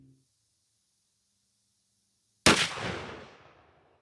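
A single loud 12-gauge shotgun blast from a Remington 11-87 with a 28-inch barrel and a heavy choke, firing a 3-inch Hevi-Bismuth 1-3/4 oz #4/#5 shell, sharp and close, decaying over about a second after silence.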